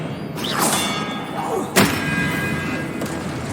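A disarming spell effect fired in the Hogwarts Legacy video game: a rising magical whoosh, then a sharp thump near the middle, over a steady background hum.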